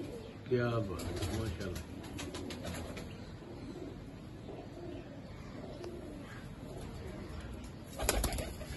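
Salaray Golden pigeons coo softly, with a burst of wing flapping near the start and again near the end, while someone speaks in the foreground.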